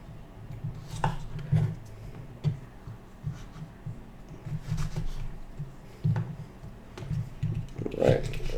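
A knife cuts the tops off Scotch bonnet peppers for Hawaiian chili pepper water, making soft irregular taps and clicks on a cutting board close by under steady low background.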